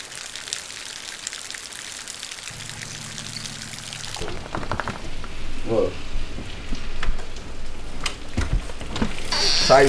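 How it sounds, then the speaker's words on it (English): Steady hissing rain that swells louder partway through, a dense wash of drops with a few faint thuds mixed in. "It's raining cats and dogs outside."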